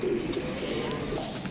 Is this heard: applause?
no